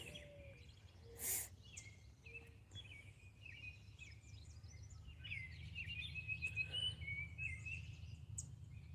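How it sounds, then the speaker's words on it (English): Faint birdsong chirps and trills drift in from a distance over a low, steady outdoor rumble beside a creek. "The birds are sure out."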